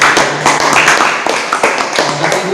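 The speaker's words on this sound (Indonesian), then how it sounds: "berikan tepuk tangan." Indoor classroom audience applauding, a dense patter of many hands clapping steadily and close by, with no talking over it.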